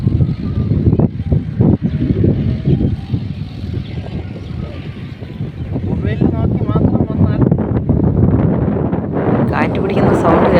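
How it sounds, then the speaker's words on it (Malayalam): Strong wind sweeps across a rocky hilltop near Tenkasi, a loud, rumbling roar buffeting the microphone, easing briefly mid-way then swelling again, while people talk throughout. "കാറ്റ് പിടിക്കുന്ന സൗണ്ട് കേൾക്കുന്നില്ലേ? ഭയങ്കര കാറ്റാണ്, ഭയങ്കര കാറ്റ്."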